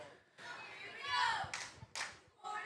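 Cheerleaders clap and cheer at a high school football game between Gaylord St. Mary and Pellston, a bright crowd-like roar rising in bursts with scattered hand claps over a busy background.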